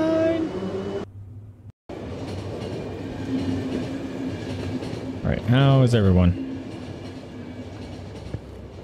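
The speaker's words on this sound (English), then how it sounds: "Train time!" In the video game The Final Station, a train runs with a steady rumbling rail drone and a briefly rising whistle-like tone, while a voice talks over it at the start.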